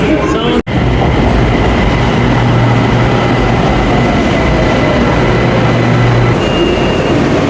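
A Bangkok train in motion rumbles loud and steady throughout, a continuous rail roar with a faint clickety-clack, broken by a brief dropout near the start.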